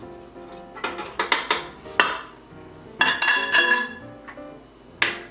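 Eggs and brown sugar are stirred in a bowl for a dream bar filling: a quick run of sharp clinks and scrapes of a utensil against the bowl, in uneven bursts with short pauses, close and fairly loud.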